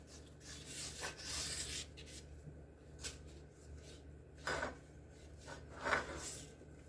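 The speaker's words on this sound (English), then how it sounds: "the leftover butter that you had, go ahead and get all surfaces of your cooking dish" Leftover butter rubbed across the surfaces of a baking dish for buttermilk biscuits, heard as soft, intermittent scraping and rubbing strokes close to the mic with a few sharper swipes over low background hum.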